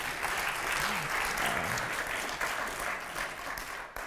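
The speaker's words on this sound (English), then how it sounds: "You can clap." An audience claps steadily for about four seconds, a dense and even patter that stays fairly loud and fades a little at the end, with a brief voice underneath.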